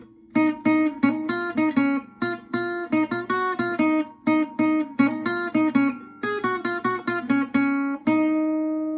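Clean guitar notes picked in a quick, steady rhythm form the full riff from a song, closing on a ringing sustained chord.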